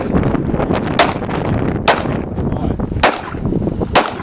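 Four sharp, loud gunshots from a Kriss Vector fired from a sling, spaced roughly a second apart, ringing out over steady outdoor background noise at close range.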